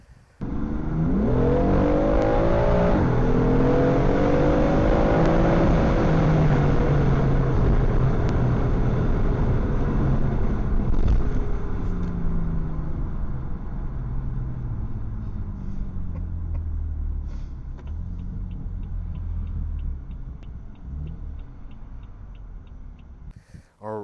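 Cars race past, one of them a Tesla, with a loud engine roar and rising revs that hold steady for several seconds before slowly fading into the distance, no talk over it.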